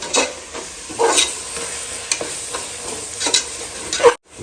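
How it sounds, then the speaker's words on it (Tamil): Coriander and mint leaves sauté in a pan for chicken biryani, a close sizzle under repeated spatula scrapes and clanks, stopping suddenly at the end. "ஸோ இதை சேர்த்துட்டு நல்லா வதக்கும்."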